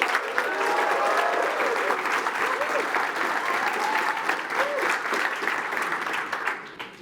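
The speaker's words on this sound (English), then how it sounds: "Andy from ITV, let's make some noise" A conference audience at a tech event cheers and applauds for a favourite dashboard, with dense continuous clapping and scattered whoops and shouts over several seconds before it begins to fade.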